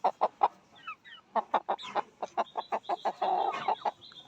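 Chickens about to be slaughtered cluck in quick, rapid bursts close by in a village, with a few higher squawks mixed into the busy rhythm.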